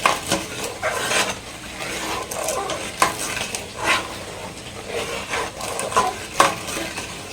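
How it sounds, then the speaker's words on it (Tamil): A spoon scrapes and clinks against a pan while sugar is stirred and dissolved, producing irregular close scraping strokes with occasional sharper taps, alone without talk. "ஸோ இப்போ கரண்டி வச்சு நம்ம அதை இந்த சர்க்கரை நல்லா வந்து கரையணும்"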